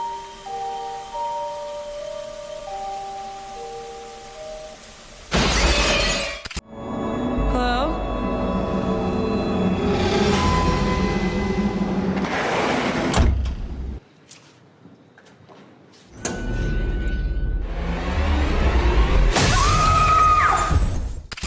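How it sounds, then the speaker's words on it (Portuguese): Glass door shattering loudly as a killer smashes through it in a 1997 horror film's final scare, two sharp crashes with debris, set amid tense score and a brief quiet gap. "um susto final do assassino quebrando uma porta de vidro e pulando em direção à tela"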